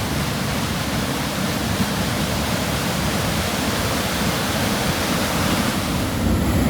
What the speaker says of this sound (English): And I tell you, that water fills pretty fast.